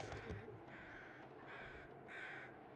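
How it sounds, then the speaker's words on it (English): Crows cawing in the wilderness survival game The Long Dark, three or four harsh caws in a loose rhythm, quiet and somewhat distant, with no voices. "Some very noisy crows somewhere."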